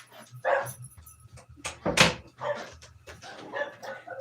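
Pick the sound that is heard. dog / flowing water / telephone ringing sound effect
dog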